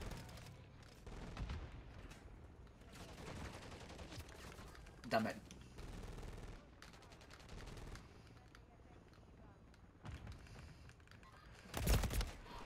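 Bursts of gunfire in the survival video game Rust, with scattered shots and two louder volleys, mixed with keyboard clatter and a player's occasional voice.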